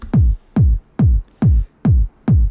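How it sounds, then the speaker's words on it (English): A punchy electronic kick drum hits six times at a steady, even tempo, each a deep booming thump with a quick decay and short gaps between. "If we have a look at the kick, it sounds like this."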